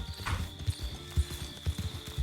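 Horse hooves clip-clop in a steady, evenly spaced rhythm in a western roleplay video game, close and moderately loud, with faint background ambience and no clear talking.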